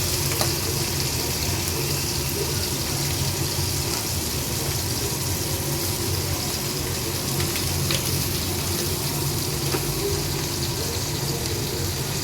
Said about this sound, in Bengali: মাথাগুলো প্রথমে ভাজি